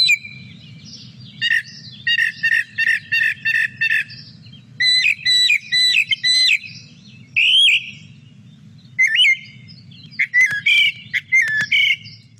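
A northern mockingbird sings alone and up close, mimicking other birds with bursts of rapid repeated chirps, whistles and squawky phrases, each phrase lasting about a second and separated by short pauses.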